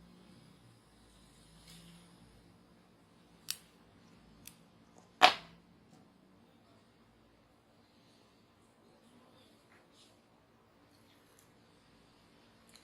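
Small scissors snip a crochet yarn tail in a quiet room, a few sharp isolated clicks, one distinctly louder than the rest, against near silence.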